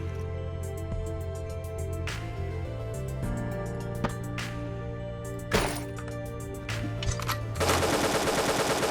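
AK-77 gunfire in the 2018 video game Dungreed, rapid repeated synthetic shots over steady game music, firing in bursts with louder cracks near the end.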